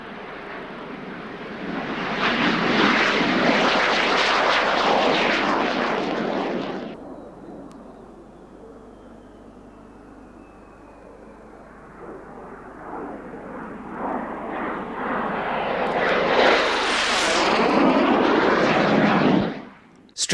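A loud F-86 Sabre jet fighter at an air show roars past, fading to a quieter rumble mid-clip before rising again into a second sweeping, high-pitched pass that cuts off sharply, with no one speaking.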